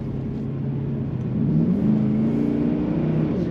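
A 2005 Pontiac GTO's engine drones steadily while the car corners, its low rumble rising partway through as the revs climb a little, loud and close from inside the cabin.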